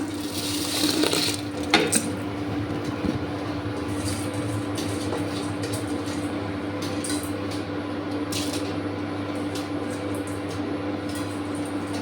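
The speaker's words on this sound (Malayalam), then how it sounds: "നമുക്ക് അരി ഇട്ട് കൊടുക്കാം." Matta rice is tipped into a pot of boiling salted water, giving a brief rattling splash near the start, then a steady bubbling boil with a constant stove hum. No one speaks.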